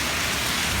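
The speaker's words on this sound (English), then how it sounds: "the rain was coming down too hard" Torrential rain pours down in Kuala Lumpur, a dense, loud, unbroken hiss of heavy drops hammering surfaces all around.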